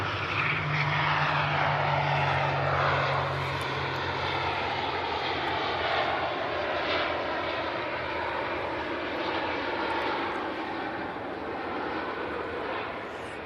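Propeller airliner arriving from Belfast at Manchester Airport, its engine drone loud and steady throughout with a low hum fading partway, broadband roar continuous and near.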